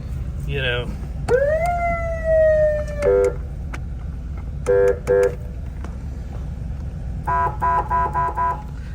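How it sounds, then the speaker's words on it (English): A police car's electronic PA siren sweeps up and holds, then short honking yelp tones repeat in bursts, loud and close over a low hum. "This cop PA siren"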